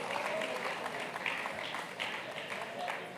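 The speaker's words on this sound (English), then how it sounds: "Please give Mrs. Ijeoma Ozulumba, ED, DBN, a round of applause for her vote of thanks." An audience at an annual lecture applauds a vote of thanks with steady, dense clapping that holds at an even level throughout, with a faint voice now and then beneath it.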